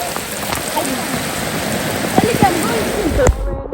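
Steady heavy rain hisses and patters on surfaces during flooding in Ghana, with a few louder knocks near the end.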